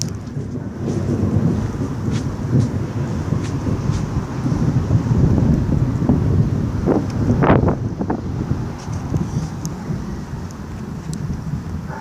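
Thunder rumbles through a rainstorm, set against steady wind-blown noise. A sharper crack stands out near the middle of the storm, and the low roar continues throughout with no voices.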